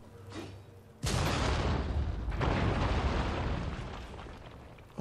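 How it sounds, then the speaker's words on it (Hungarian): A loud explosion in the video game Nioh 2 strikes suddenly after a quiet second. It rolls into a heavy, sustained rumble that slowly fades over several seconds. "Hát ott valami robbant."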